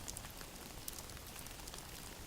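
Steady, faint rainfall, a dense even hiss of drops on a surface with occasional louder patters, continuous and alone with no voices.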